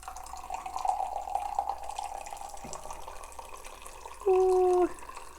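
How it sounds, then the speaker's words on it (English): Water pours and splashes out of an insulated tumbler, a steady close gurgle with a short high squeak near the end. "You have to be careful with the little pop and just dump your water."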